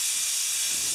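Compressed air blasts crud off a Tecumseh small engine in a steady, loud, close hiss that holds unbroken for about a second.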